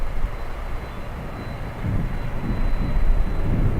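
American Airlines Boeing 737 flying in at Miami International Airport, a steady distant jet rumble that swells slightly, with no voices.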